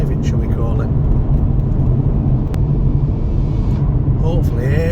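A 2023 Audi A5 Sportback S-Line 45 TFSI mild-hybrid quattro drives briskly along a winding road. Steady, loud engine and road rumble runs throughout from inside the cabin, with no pauses.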